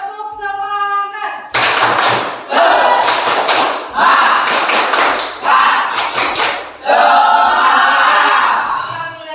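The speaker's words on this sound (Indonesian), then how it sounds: "Oke, tepuk semangat." A classroom of students performs a rhythmic Indonesian spirit-clap cheer during a lesson, with loud bursts of group clapping in a set pattern alongside chanted voices, after a brief spoken lead-in from the teacher.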